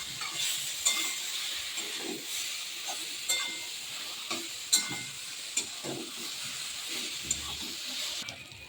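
Vegetables and flour being sautéed with salt in a pan, a soft continuous sizzle with intermittent scraping stirs and light clinks of the utensil, close and moderate in volume, no talking.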